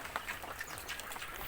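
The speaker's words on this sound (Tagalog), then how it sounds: "Doon naman tayo sa mga bibi mga kapatid." Farm ducks give soft, scattered quacks at close range, with faint background noise around them.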